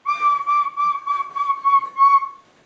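A single high whistle or flute tone is blown in a series of short repeated pulses, loud and close, with no talk over it.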